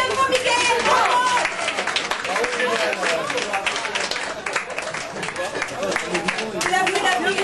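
A crowd at a Mister pageant final applauds a contestant, dense sustained clapping with cheers and voices mixed throughout.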